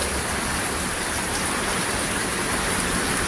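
Dense, steady rain with strong wind during a cyclone pours down with a constant roar, a broad hiss filling the air with no pauses, close and loud throughout.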